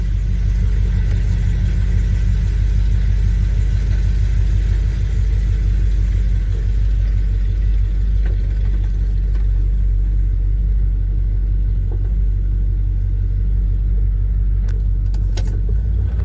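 A 1978 Chevy C10 pickup truck engine idles after a cold start with a low, steady rumble, close by and continuous, with no speech over it.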